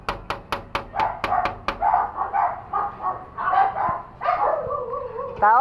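A series of sharp, evenly spaced barks opens the clip, followed by more continuous dog vocalizing, yelping and whining, fairly close by.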